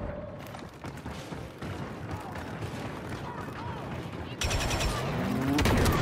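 Automatic weapon fire in a shooter game, bursts of rapid shots that grow louder and denser toward the end, mixed with other game effects and a voice talking over the action.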